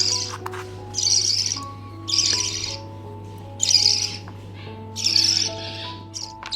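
Injured baby budgie chicks being hand-fed chirp and squeak in repeated bursts, about five close high-pitched calls spaced roughly a second apart over a steady low hum.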